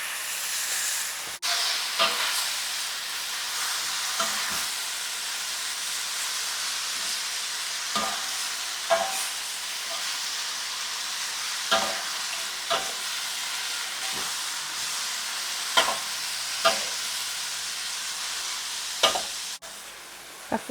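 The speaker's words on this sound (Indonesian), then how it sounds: "masukin bunga sayur. Itu ditumis biasa aja teman-teman" Cauliflower florets stir-fried in a pan, giving a constant close hiss and sizzle with scattered clicks and taps of a spatula against the pan, no voices.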